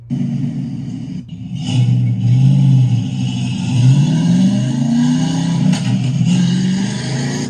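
A Foxbody Ford Mustang's engine revs up and down with a deep, throaty aftermarket exhaust rumble, rising and falling in pitch several times, loud and close.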